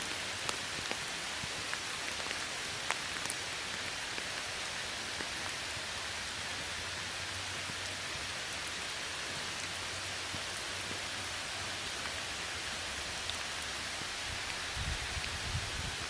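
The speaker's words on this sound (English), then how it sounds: "Here I am, I'm in the rain." Steady rain pours down outdoors at night among trees, a dense, even hiss of drops on leaves and surfaces that continues unbroken throughout.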